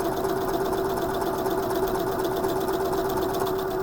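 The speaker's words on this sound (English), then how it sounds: "Straight stitch back and zigzag forward, and it's sewing over those cords." A sewing machine stitching a buttonhole over cords, alternating straight and zigzag stitches, giving a steady close mechanical whir with a fast, even stitching rhythm throughout.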